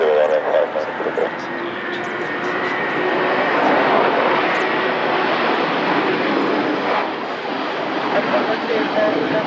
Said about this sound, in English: That's a Cessna Citation 3